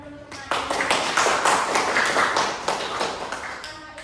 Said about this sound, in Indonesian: Beri tepuk tangan dulu untuk Maya.